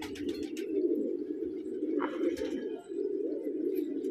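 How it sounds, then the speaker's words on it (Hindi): Pigeons coo in low, continuous throaty rumbles close by, with a few faint chirps and small noises scattered over them. "देखिए ऊपर से भी कबूतर आ रहे हैं, ये इसमें एक कबूतर उड़ रहा"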